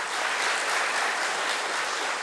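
Steady applause fills a school board meeting room for school volunteers, many hands clapping in an even, sustained wash at moderate loudness.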